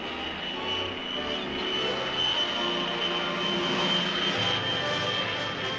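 An Army fixed-wing reconnaissance aircraft engine drones steadily and fairly loud, a continuous even roar with a sustained whine, with no pauses through the whole stretch.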